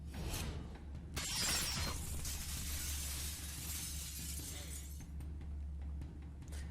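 Glass shatters in a dramatic sound effect, a loud sudden crash followed by several seconds of dense, glittering debris over a low rumbling hum, with no voices.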